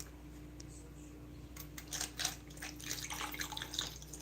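Cran grape juice poured into a glass at a breakfast table, a soft, uneven splash and trickle with brief drips, starting quietly and building over the last few seconds against a faint background hum.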